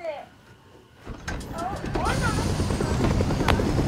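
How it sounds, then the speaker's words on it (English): A helicopter in the Fortnite video game spins up and grows louder, its rotor thudding under game effects, with people talking over it. "Where even is the helicopter, though?"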